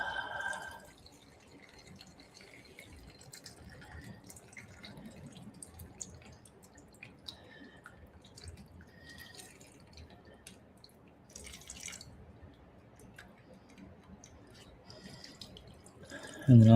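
Fluid drains from a car in a shop, a faint steady trickle with soft scattered drips, close by, under low background noise.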